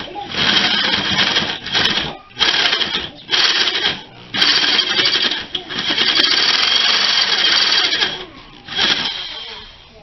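Angle grinder countersinking a hole in metal, loud close bursts of high-pitched whining and grinding that stop and restart several times in short passes.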